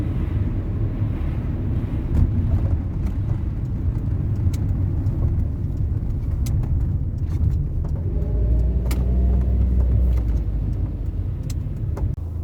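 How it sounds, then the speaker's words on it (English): A classic Rover P6 car engine runs steadily, a low rumbling idle heard close up with some wind buffeting on the microphone, continuous and fairly loud with no talking. "Takes a while for this car to get going."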